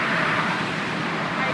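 Steady roadway traffic noise from cars crossing a bridge into Queens, New York, a continuous broadband wash with no distinct pass-bys, with a voice talking over it.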